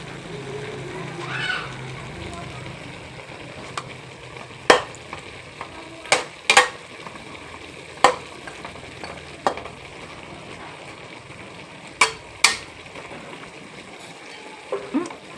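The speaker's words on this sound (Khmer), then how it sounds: "ឥឡូវនេះឆាស្ពៃក្តោបរបស់ខ្ញុំបានឆ្អិនរួចរាល់ហើយ" Cabbage being stir-fried in a hot pan, a steady sizzle under scattered sharp clacks of a utensil scraping and tossing, with faint talk in the background.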